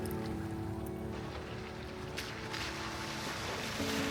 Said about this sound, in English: Every few minutes, the sound of rushing water filled the air.